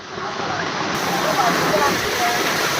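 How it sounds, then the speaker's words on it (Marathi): A steady, loud rush of a waterfall during heavy monsoon rain fills the clip, constant and broadband, with no breaks. "धबधबा बघू शकता इकडे"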